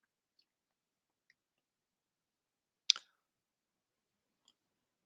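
A computer mouse clicked once in near silence, a single faint, crisp click near the middle with only tiny ticks around it.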